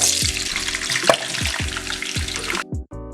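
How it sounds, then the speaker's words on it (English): Cajun-seasoned fries crackle in hot oil in a pan, a dense, close, continuous sizzle with a few stirring clicks that cuts off near the end. "We're gonna throw our fries in."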